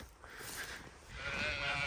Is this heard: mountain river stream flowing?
no